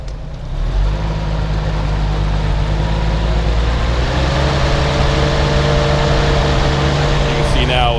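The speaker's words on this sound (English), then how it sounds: "So go ahead and rev it up again." A 1966 Toyota FJ40 engine runs loud and close with a deep, steady rumble that gradually rises in pitch as it is revved, with a faint click near the end.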